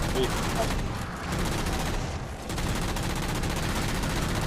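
Sustained enemy gunfire rattles without pause in a Halo 4 campaign battle, dense and loud with brief lulls, with a voice talking over the shooting.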